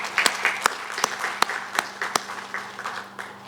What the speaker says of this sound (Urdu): آپ کے لیے تالیاں بجاتا ہوں